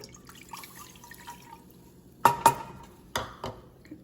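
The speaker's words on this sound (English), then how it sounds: "we're going to take it and pour it into our pot" Water splashes and drips into a pot in a few short bursts, fairly close, over a quiet background hum.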